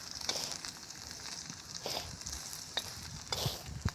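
Chicken 65 pieces fry in oil on a wood-fired stove, giving a soft continuous sizzle with scattered pops and occasional stirring clinks, quiet and close.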